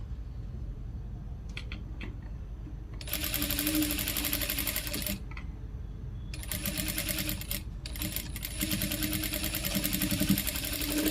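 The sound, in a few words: sewing machine stitching blouse neck hem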